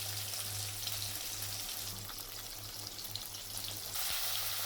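Katla fish pieces fry in hot oil in a pan, a steady close sizzle with a low hum underneath and a brief stir near the end, no talking.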